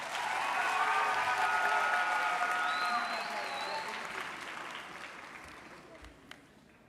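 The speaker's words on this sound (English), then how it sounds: "Ladies and gentlemen, can we give them another round of applause?" Audience applause at an evening graduation ceremony session, a broad steady wash of clapping that starts loud and slowly fades over several seconds, with faint voices and a brief whistle-like tone mixed in.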